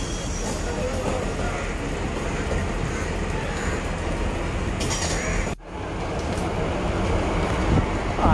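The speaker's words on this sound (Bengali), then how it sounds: "7:53-তে আমাদের ট্রেন বর্ধমান জংশন থেকে ছেড়ে দিল" A Siuri–Sealdah MEMU train pulls away from Bardhaman Junction, a loud, continuous rumble and roar of the moving carriages, with a brief sharp dip and thump midway before the running noise resumes.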